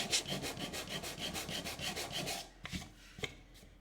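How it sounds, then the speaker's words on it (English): Sandpaper of 220 grit rubbed by hand over sanded joints on a painted wooden tissue box cover, a steady rhythmic back-and-forth scrubbing close up, ending with a few light taps and scrapes. "take your 220 grit and just smooth that out"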